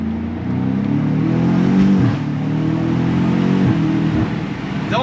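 A 2022 BMW M5 Competition engine revs with short taps of the gas, its deep, loud growl rising and falling in several close surges from inside the car.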